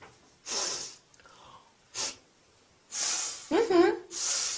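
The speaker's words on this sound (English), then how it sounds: "How do I show disapproval? Easy. You sniff." Several sharp nasal sniffs come in short bursts separated by pauses, with a brief vocal sound among them.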